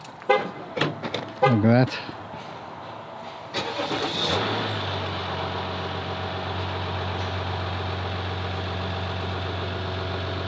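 A pickup truck cranks and its engine catches, then settles into a steady, even idle that hums on close by; a person speaks briefly before it starts.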